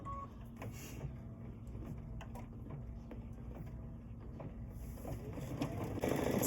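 A sewing machine stitches a tack-down line for glitter vinyl on a Kimberbell gift pocket, its steady mechanical hum and rapid needle patter running continuously up close with no speech.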